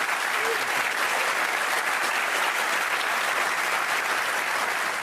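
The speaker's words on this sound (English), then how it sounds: "let's give him a big round of applause." Steady, dense applause from a large crowd at a Lotus Eletre electric SUV reveal event fills the whole stretch, loud and sustained without pause.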